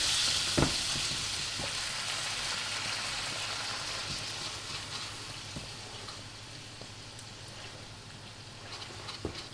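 Meatballs brown in a pan, giving a steady close hiss and crackle of frying fat with occasional sharper pops, a few scraping stirs, and no talking.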